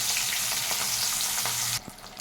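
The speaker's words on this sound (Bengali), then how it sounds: "এই তেলে দিয়ে দিচ্ছি 1 পিস ইলিশ মাছ।" A marinated piece of hilsa fish frying in hot oil, a dense continuous sizzle with faint stirring clicks, dropping away abruptly near the end.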